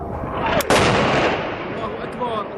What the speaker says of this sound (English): The shelling is relentless, indiscriminate. Artillery against residential areas.